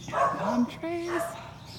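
A dog on a street near a resort gives a couple of short, yippy barks or whines, close by and fairly clear, with nothing else prominent around it.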